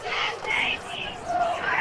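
High school football crowd in the stands at a Steubenville Catholic Central game in Moundsville, a steady roar of cheering and shouting voices at moderate distance, swelling in waves.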